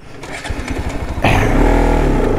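Bajaj Pulsar RS200 BS3 motorcycle, about nine years old, revving and accelerating hard for a 90 to 100 brake test run; loud, close engine note that jumps sharply halfway through and holds a steady roar to the end, with no talk.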